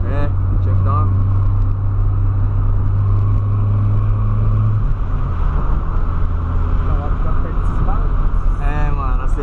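A Volkswagen Polo Sedan's engine rumbles steadily up close, its pitch climbing as it accelerates, with talking heard over the engine noise.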